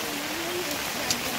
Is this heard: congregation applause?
no